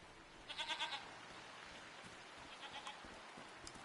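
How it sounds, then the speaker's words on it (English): A few quick bleats from a goat-like video game creature in Season: A Letter to the Future, fairly faint, clustered near the start with a softer call later over a steady background hiss. "What are these strange goat-like creatures? Are they simply goats?"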